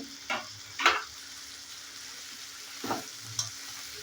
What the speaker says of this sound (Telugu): రెండు చేపలు ఇలా మెత్తాలు వేసేసి బాగా అల్లం వెల్లుల్లి పేస్ట్లో బాగా కొంచెంసేపు ఉడకాలండి